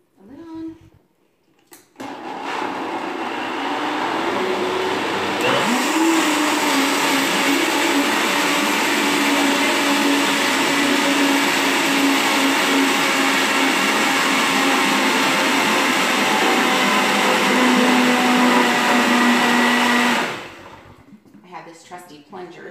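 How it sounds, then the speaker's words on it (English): A blender whirs loudly through raw vegan salted caramel cheesecake mixture, starting after a short clatter and running as a steady motor roar that shifts slightly in pitch before cutting off near the end. "just give your blender a shake"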